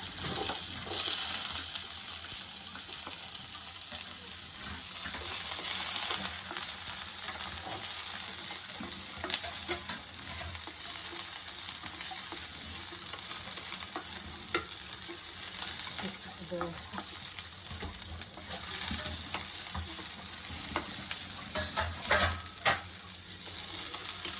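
Chopped onions frying in a pan until light brown, a steady bright sizzle running throughout at close range with occasional stirring scrapes and no talk.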